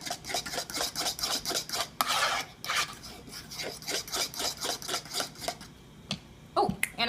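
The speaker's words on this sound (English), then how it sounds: "And stir again." Vegan, gluten-free chocolate chip banana bread batter with maple syrup being stirred in a bowl: a close, steady run of rhythmic scraping strokes with utensil clinks against the bowl, and a brief pause near the end.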